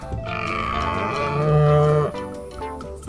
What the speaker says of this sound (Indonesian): ini ada sapi bertanduk panjang